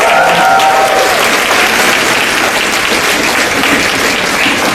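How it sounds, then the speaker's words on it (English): Parents in a school audience give a loud, sustained round of applause after a 4th and 5th grade music performance, with many hands clapping close by in a continuous roar that barely fades. "let's give him another round of applause"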